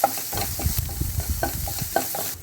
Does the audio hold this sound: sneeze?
no